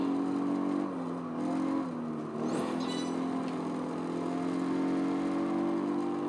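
Racing cars in Project Gotham Racing 4 on the full Nürburgring circuit, a Mercedes-AMG against a Toyota TRD, giving a steady engine drone that dips and shifts in pitch, then holds a smooth, sustained tone.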